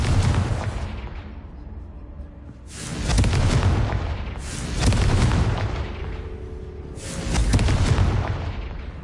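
Repeated Confringo spell explosions in the video game Hogwarts Legacy: four loud, booming blasts spaced a couple of seconds apart, each with a rumbling tail that fades before the next.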